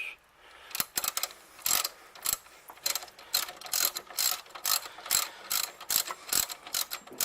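Hand wrenches ratchet on the alternator bolts of a Ford Mustang, quick repeated clicking bursts in an uneven rhythm, close and crisp, with no talk.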